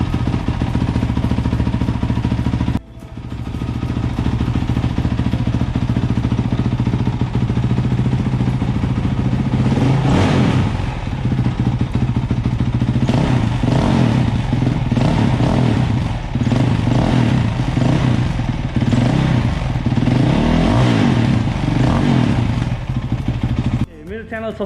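A Honda CRF 450X dirt bike in Nepal: the engine runs loud and close with a rough, continuous idle. A brief cut comes early, then a series of throttle blips and revs rises and falls above the drone.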